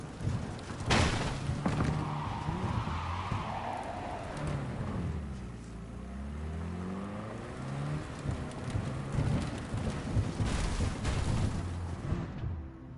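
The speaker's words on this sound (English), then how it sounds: "That is one hell of a storm." Thunderstorm in a PS4 video game: dense rain hiss and low rolling rumbles with sharp thunder cracks and sweeping tonal effects, sustained and loud throughout with no talking.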